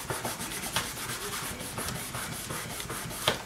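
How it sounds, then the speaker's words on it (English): Paper craft gift card holder, a Cricut Explore matchbook-style card, rubbed firmly by hand to press it flat, giving a steady close scratchy rubbing with short repeated strokes. "I'm going to flip it over and then give it a rub"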